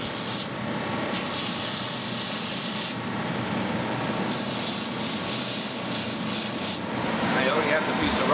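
A shoe repair grinding machine grinds down a shoe heel to level it, giving a steady, continuous abrasive whir and rasp with no break in loudness, swelling a little louder near the end.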